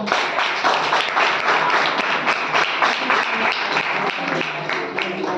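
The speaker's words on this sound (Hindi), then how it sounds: "रजा के लिए पहली बार तालियां बजाओ।" Students in a classroom clapping for a classmate during an oral test, a dense run of hand claps with audible individual strikes, fairly close and steady throughout.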